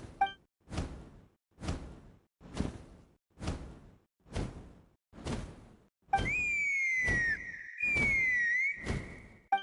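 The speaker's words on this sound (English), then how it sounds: "That sounded like a whistle." In Genshin Impact, a high whistle sounds in two sliding, wavering tones over a repeating series of soft whooshing pulses, rising clearly above them for several seconds.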